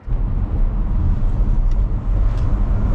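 Ford Mustang Mach-E GT electric car driving through turns, a steady low road and tyre rumble heard from inside the cabin, continuous and fairly loud with no speech.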